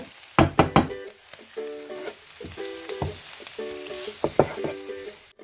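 Chicken liver roasting in a pan with onions, fennel powder and spices, giving a close sizzle broken by several sharp knocks and scrapes of a spoon stirring against the pan.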